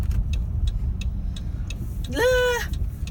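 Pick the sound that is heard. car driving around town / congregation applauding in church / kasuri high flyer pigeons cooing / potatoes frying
car driving around town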